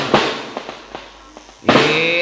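Firecrackers pop in a series of sharp bangs, one loud blast followed by three smaller cracks at uneven intervals, then a bigger explosion trailing into a noisy, ringing rumble.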